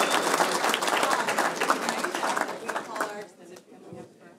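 Audience applause at an annual patriotic community celebration in Lawrence, Massachusetts, a dense crowd clapping with cheering voices that tapers off toward the end.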